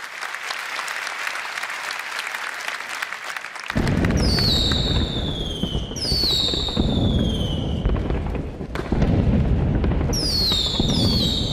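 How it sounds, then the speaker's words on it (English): Fireworks item from the Nintendo Land plaza in a Wii U game demo: a steady rush of applause-like crackle with bright descending whistles bursting in three or four repeated volleys, loud and continuous. "an awkward demonstration of the fireworks item"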